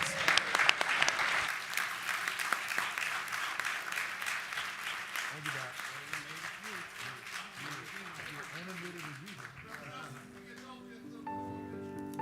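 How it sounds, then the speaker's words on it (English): A convention audience at the National Action Network gathering gives sustained, dense applause that stays loud throughout and slowly tapers off toward the end, as a voice speaks over the final moments. "let's give them a hand clap of praise"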